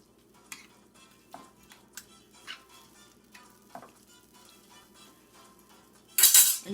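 Onion frying for baigan choka, tossed around a pan, makes a quiet sizzle broken by regular clinks and scrapes of the utensil, ending in a loud burst of hissing.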